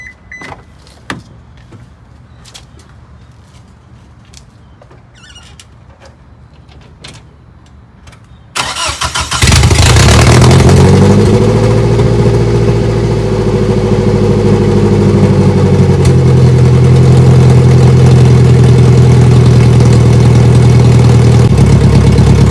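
A Scion xB engine with a hood exit cranks and catches after a quiet stretch with small clicks, then settles into a loud, steady idle that hums on to the end.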